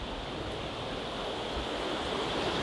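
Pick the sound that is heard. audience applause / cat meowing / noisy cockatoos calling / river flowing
river flowing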